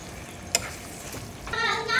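Pork menudo with tomato sauce and green peas being stirred in a pan, a soft sizzle with a sharp clack of a utensil and scraping as it is mixed.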